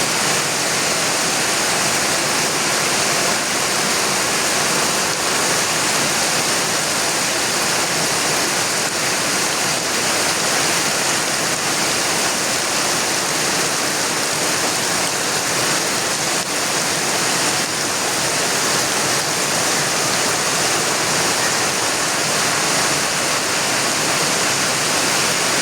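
Floodwater rushes and pours continuously near the Suthumalai Amman temple, a loud, dense roar that is steady like a waterfall and carries no voices.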